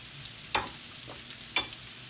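Country potatoes frying in butter in a pan, a faint steady sizzle with two brief scraping stir sounds spaced about a second apart.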